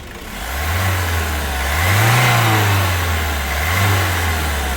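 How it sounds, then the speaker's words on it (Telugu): The engine of a 2016/17 Ford EcoSport Titanium runs close by, a smooth, quiet hum that rises and falls in two gentle revs over its idle. "ఇంజన్ యొక్క నాయిస్ చాలా సైలెంట్గా అయితే ఉంది"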